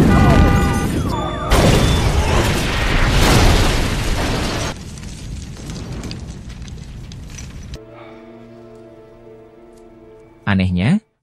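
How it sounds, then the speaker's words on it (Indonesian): Parked cars in a prison lot blow up one after another in a film scene, a run of loud, roaring, crackling blasts in the first few seconds, followed by music and a sharp closing burst. "satu demi satu mobil yang terparkir di area penjara tiba-tiba saja meledak"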